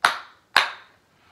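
Two sharp, crisp claps ring out about half a second apart in a music class for children, each one close and clear with a quick decay.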